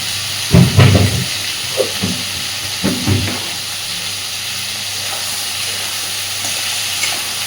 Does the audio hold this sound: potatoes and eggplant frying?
yes